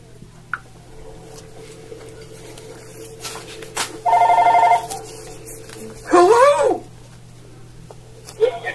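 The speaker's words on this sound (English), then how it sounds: "Sherry, you got a phone call there" A telephone rings once in a steady burst, followed by a warbling, rising-and-falling tone and other faint clicks over a constant low hum.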